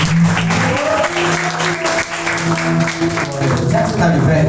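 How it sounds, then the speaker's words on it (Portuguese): Applause from a church congregation welcoming a preacher, steady clapping filling the room for several seconds with voices mixed in over a low hum. "vamos receber o servo de Deus com as palmas bem alegres para Jesus."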